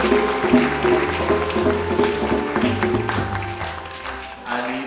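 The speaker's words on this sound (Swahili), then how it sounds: "Naomba tumpigie makofi mengi kwa alipo." A church congregation claps together in dense, sustained applause at a Catholic mass, with a voice and tonal sounds mixed in under the clapping.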